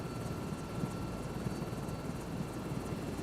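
Sky crane helicopter in Microsoft Flight Simulator 2024 gives a steady, continuous rotor and engine drone, loud and close, with a dense low rumble that holds evenly throughout.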